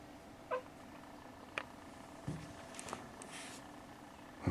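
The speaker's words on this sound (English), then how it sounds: "he's speaking in cat language" A cat makes a few faint, brief chirping meows toward robins outdoors in snowy winter, scattered quick calls over quiet background hiss.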